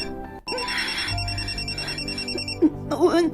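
An incoming call rings on a phone, a melodic electronic ringtone with repeating tonal notes up close, briefly joined by a voice near the end.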